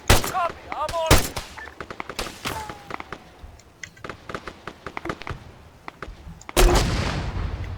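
Automatic weapon gunfire in the military shooter Arma 3, with loud bursts of machine-gun and rifle shots cracking in rapid succession, some near and some farther off, plus a heavy blast near the end.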